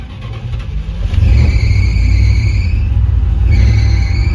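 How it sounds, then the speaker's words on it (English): A car engine is started and idles with a low rumble, while its alternator belt gives a high, steady squeal in two stretches, loud and close, with no talking. "That's probably the alternator trying to charge, and it's squealing."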